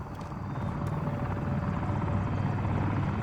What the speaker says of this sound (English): We have a helicopter flying overhead.